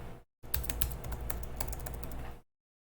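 Typing on a computer keyboard, a quick close run of soft clicking keystrokes lasting about two seconds.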